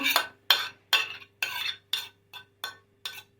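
Minced fish being stirred in a bowl for fish cutlets; about eight rhythmic, evenly spaced wet scraping strokes of a utensil against the bowl, close and distinct, with silence between each stroke and no talking.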